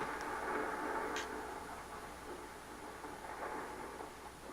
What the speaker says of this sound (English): Then thunder boomed and lightning struck